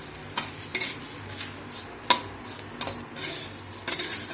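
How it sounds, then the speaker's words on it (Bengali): Bay leaves and whole spices frying in a pan while being stirred, a soft continuous sizzle broken by several sharp clinks and scrapes of a metal spoon against the pan. "তেজপাতা এই যে সব কিছু একসাথে দিয়ে এটা একটু ভেজে নেব"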